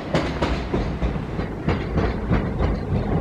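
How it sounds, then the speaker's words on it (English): A Class 375 electric train from London Charing Cross pulls into Dover Priory station with a rumbling roll and repeated clickety-clack of wheels over rail joints, close and fairly loud throughout. "Three 75 approaching Devon Priory from London Charing Cross."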